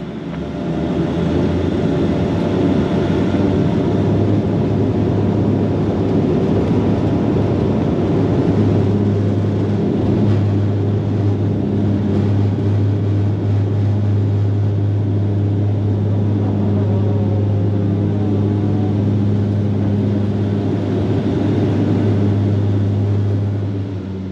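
An airliner rolls down the runway for takeoff, heard from inside the cabin as a loud, steady engine roar with a constant low hum that holds throughout.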